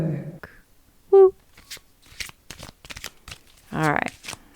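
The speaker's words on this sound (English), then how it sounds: "Shuffle this up" A deck of cards is shuffled in short crisp bursts, a quick riffle and a longer riffle, with a person talking in between.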